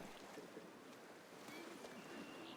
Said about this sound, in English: That is such aggressive water.